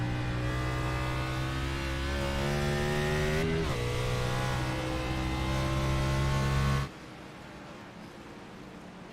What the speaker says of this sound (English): This has to be Ginger on the throttle